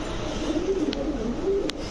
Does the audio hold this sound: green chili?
no